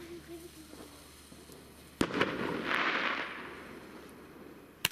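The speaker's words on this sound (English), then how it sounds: "That's your 5-shot MADISON Roman candle." A MADISON 5-shot Roman candle firework on Bonfire Night fires loud sharp bursts, one strong crack followed by hissing and crackle, then another pop near the end, outdoors with faint voices.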